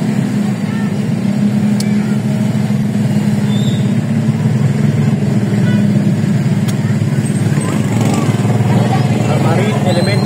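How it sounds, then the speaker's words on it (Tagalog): Steady street traffic rolls past near Camarin Elementary School while students are let out, a continuous engine rumble with vehicles passing close by and a voice talking over it. "Traffic."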